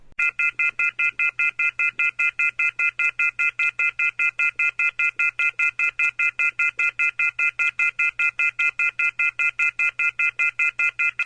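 AM radio DX test tones ring out as a rapid, unbroken series of loud, identical beeping pulses with a bright multi-tone quality, repeating steadily for about eleven seconds over a faint low hum.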